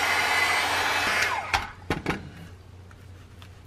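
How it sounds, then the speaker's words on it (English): Heat gun blowing hot air while making a mini album, a loud whooshing roar at close range that cuts off after about a second and a half, leaving a few clicks and handling knocks. "First, I'm gonna heat it up with my heat gun."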